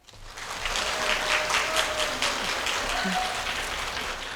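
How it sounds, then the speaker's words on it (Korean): A Korean education forum audience in Seongnam applauds and cheers in a continuous, fairly steady wash of clapping that fills the hall throughout. "박수와 환호성 감사합니다"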